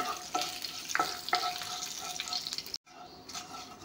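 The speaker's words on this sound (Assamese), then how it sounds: "এতিয়া তেজপাত পাঁচফোৰণখিনি অলপমান ভাজি ল'ম।" Bay leaves and panch phoron spices sizzle and crackle in hot oil while a utensil stirs with a few sharp scrapes; the sound cuts off briefly near the end.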